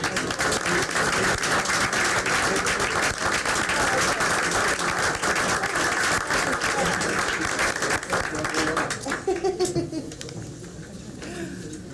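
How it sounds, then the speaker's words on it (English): Audience applause at a school board meeting, a dense sustained wash of clapping that fades out toward the end, with a voice briefly audible as it dies down. "another round of applause for these fine"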